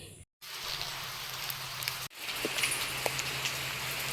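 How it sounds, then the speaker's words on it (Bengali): Light rain patters outside a village house, a soft continuous hiss broken by two brief silent cuts, with a few faint taps and rustles and no talking. "টেপ টেপ করে বৃষ্টি পড়ছে"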